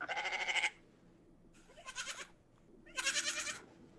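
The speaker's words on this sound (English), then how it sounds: "Alexa, what does a goat sound like?" A goat bleat played through an Alexa smart speaker: three loud, wavering bleats separated by short pauses, with no talking over them.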